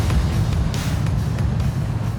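Two 550 horsepower 8.3 liter engines drive a 20-ton boat up rough rapids, a loud steady low rumble mixed with rushing water and wind buffeting, no voices.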